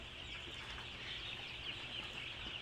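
Many chicks on a poultry farm keep up a dense, continuous chorus of high peeping, fairly faint and steady throughout, with no voices.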